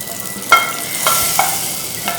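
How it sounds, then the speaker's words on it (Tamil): Tempered mustard seeds and urad dal being tipped into a pot of sambar give a steady frying sizzle with a few sharper crackles and stirring clicks, fairly close, with no talking. "பாருங்கள், தாளித்த கடுகு உளுந்து இதில் சேர்த்துடலாம் சாம்பாரில்."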